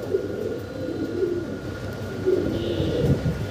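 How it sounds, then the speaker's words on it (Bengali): Fancy pigeons for sale, including Syrian shaker birds, coo softly and repeatedly in a dove cote, with low throaty murmurs over a steady background hum. "সিঙ্গেল আরো এক পিস কবুতর আছে জি এখানে"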